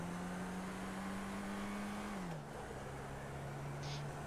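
A BMW drifting in a racing video game, its engine holding a steady drone that dips in pitch partway through, with a brief higher squeal near the end, continuous and fairly close.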